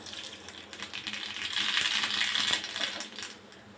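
Mustard seeds crackle and sizzle in hot oil while tempering for a ground chutney, a dense, crisp spattering hiss that swells in the middle and eases off near the end, close and steady with no talking.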